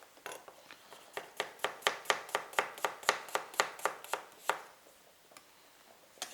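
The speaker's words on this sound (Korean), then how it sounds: "파인데 이거 다 썰어 놓을게요" Quick, even knife chops through green onions on a cutting board, about twenty crisp taps in a steady rhythm, close and clear, then a pause and one last chop.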